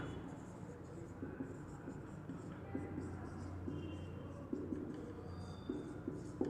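Writing on a board during an accounting lecture on dissolving a partnership firm: faint, scratchy strokes tapping and sliding in short irregular bursts, heard close against a quiet room hum with no talking.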